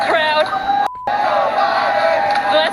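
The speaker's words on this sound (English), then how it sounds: "Listen to them cheer you, Brandon." A large crowd chants in unison and cheers, loud and continuous with a short dropout near the start.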